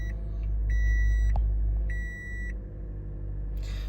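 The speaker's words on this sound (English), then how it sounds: "And as you can see there, the car's running now." A 2014-2016 Toyota Corolla engine idles with a steady, loud low rumble just after ignition start, while two sustained electronic beeps sound over it.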